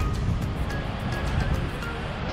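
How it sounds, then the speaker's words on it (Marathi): Sea waves roll in near Sindhudurg fort at Malvan, a continuous low, rumbling wash of surf that stays fairly loud and steady, with no voices. "समोरचे लाटा पण येत आहेत भारी."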